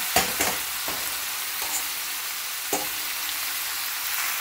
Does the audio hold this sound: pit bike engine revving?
no